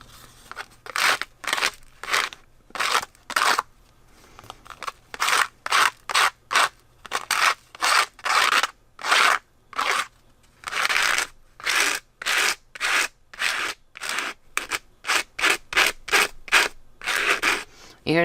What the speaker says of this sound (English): You hear that scraping? That means there is a lot of the fine salt.